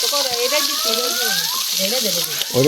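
Vegetables fry for bhaji in a pan in a Bengali village home kitchen, giving a continuous, close, bright sizzle. Voices talk over it the whole time.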